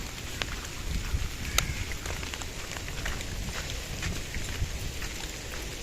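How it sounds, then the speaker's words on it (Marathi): Heavy rain near a hilltop temple by Belapur fort pours steadily as a dense, even hiss with scattered drop patters throughout, no voices over it. "पावसाचंही प्रमाण भरपूर जास्त प्रमाणात आहे"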